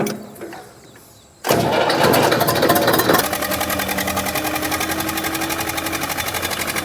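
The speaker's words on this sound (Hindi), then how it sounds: "टीलर को चलाऊंगा आज मैं दूसरे गियर में" Zetor tractor running with a tiller attached: quiet background, then the engine roars up suddenly and settles into a loud, steady, rhythmic diesel chug close by, no talk.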